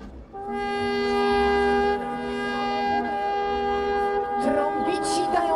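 Trumpeters play a sustained brass fanfare signalling an arrival on stage at an outdoor Christmas illumination event on a castle square, long held harmonic notes carrying over crowd murmur with a short break near the end.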